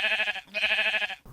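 A sheep gives two quick bleats in a row, each a trembling, nasal call, close and fairly loud with no voices around it.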